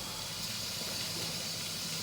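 A steady, continuous hiss of escaping steam from a pressure cooker venting while cooking masoor dal, fairly loud and close with no voices.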